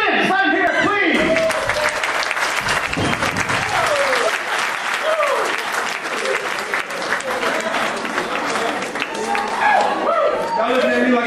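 A comedy club audience applauds loudly and continuously as stand-up comedian Clifton Simmons takes the stage, with scattered cheers and whoops over dense clapping that swells and holds for about ten seconds.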